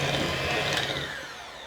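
An electric hand mixer with beaters whirring through a cheese filling for jalapeno poppers, a steady loud motor drone that tails off slightly at the end.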